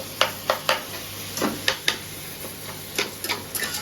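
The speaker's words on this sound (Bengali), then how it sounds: "ভালো করে ফ্রাই করে নেওয়া হচ্ছে" Potatoes, tomatoes and chillies fry in a pan with a constant close sizzle, broken by sharp, irregular taps and scrapes of a spatula stirring them. No voices are heard.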